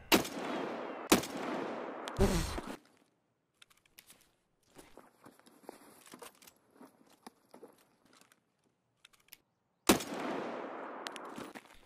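Gunfire in Escape From Tarkov on the Lighthouse map: sharp, loud shots and rapid bursts at the start, quiet scattered footsteps and movement through the middle, then another loud burst of gunfire near the end.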